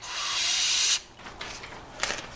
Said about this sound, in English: I'm going to spray out some of the holes for the mount